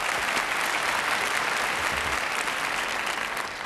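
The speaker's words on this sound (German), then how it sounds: "Ein bisschen klatschen müssen wir auch." An audience claps steadily, a dense, even wash of applause from a crowd that carries on for several seconds and thins slightly at the end.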